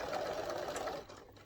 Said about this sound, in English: And you need to stitch so that the piping is here.